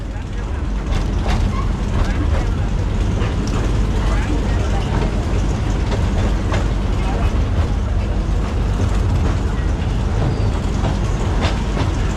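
Rumbling ride aboard a small joy train touring the national rail museum, a steady loud clatter of wheels and rattling carriage mechanisms running throughout, with voices speaking over it.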